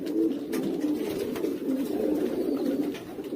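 Meat pigeons cooing in a pigeon coop, soft repeated low coos in a steady run, close and clear with no talk.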